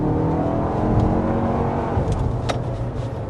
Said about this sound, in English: What you might not like as much as the sound of the engine, perhaps, because it is a 4-cylinder.